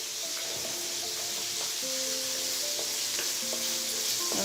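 Spices and salt frying in oil for a hilsa fish curry with potato and cauliflower, a continuous close hiss of sizzling with occasional scrapes of stirring.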